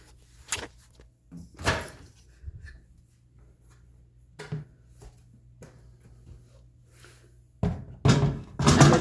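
A few sharp clunks and thuds of a microwave door opening and shutting, spaced apart with quiet gaps between, the last ones louder and closer.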